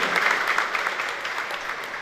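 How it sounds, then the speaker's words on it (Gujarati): An audience at a birthday function in Amreli applauds, a dense, steady wash of many hands clapping continuously throughout, fairly loud and filling the hall, with no distinct voices. "પરિવારનો એમને પણ તાળીઓથી મિત્રો આપણે વધાવી જાય"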